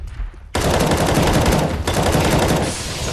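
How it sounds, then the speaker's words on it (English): A flashbang grenade goes off in Counter-Strike with a sudden loud, close blast of broadband noise, then a second burst about a second later and a sustained crackling roar, with no talking. "Deploying flashbang."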